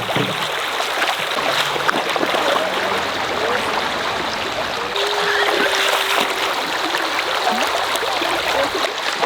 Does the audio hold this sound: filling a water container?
yes